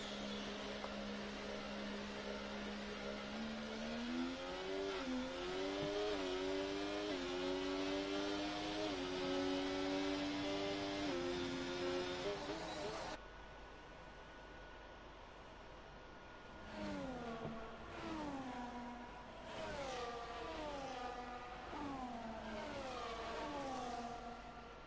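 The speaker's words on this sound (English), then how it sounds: "now we have a flurry of cars exiting the pit lane in time for Q2" Simulated race cars in a racing video game pull out of the pit lane at Spain in quick succession, engines whining and rising through gears, loud and continuous, with a brief lull before more cars rev past.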